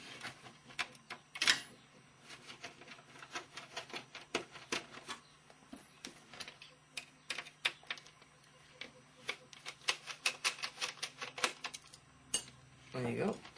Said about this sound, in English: we've got 2 more screws to take out before we're seeing the board